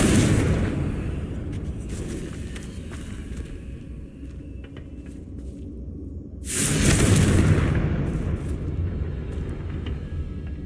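Confringo explosion spell in Hogwarts Legacy during a final boss fight, a loud booming blast with rumbling decay over steady game noise, no speech.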